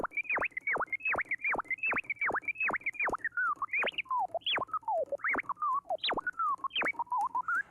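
A DJ scratches a vinyl record in orbit patterns, giving a rapid series of sharp rising and falling whooshes, first in an even rhythm and then in quicker, choppier bursts, clean and up close.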